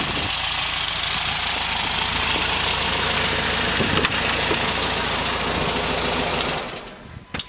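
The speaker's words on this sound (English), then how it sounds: "So you can see it's freshly rebuilt engine, runs really good, starts right up" Freshly rebuilt engine of a 1960 Volkswagen Karmann Ghia coupe idling close up, a steady, rapid mechanical clatter with an even rhythm that holds throughout and then drops off as it shuts down near the end.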